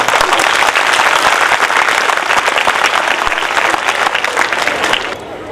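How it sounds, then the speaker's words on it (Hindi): A school Republic Day gathering of students and staff breaks into dense, sustained applause that fills the room at full volume, then thins noticeably in the final half second. "अब तालियां बजती।"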